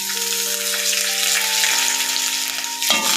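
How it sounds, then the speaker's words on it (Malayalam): Sliced onion sautés in a pan and sizzles steadily up close while it is stirred, with a clatter of stirring near the end. Steady tones from music sit underneath. "ഇത് നന്നായിട്ട് വഴണ്ട് വരുന്നോടം വരെ നമുക്ക് നന്നായിട്ടൊന്ന് ഇളക്കി കൊടുക്കാം."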